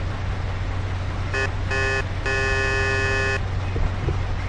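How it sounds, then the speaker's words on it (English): Car horn honking in the video game Mafia: three blasts, a short one, a second short one and a longer sustained one, over a steady low engine rumble. "you should warn them by sounding the car horn"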